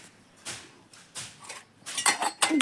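Dishes and pots being scrubbed and washed by hand clink and clatter in short irregular bursts, close by and fairly quiet, with no talk.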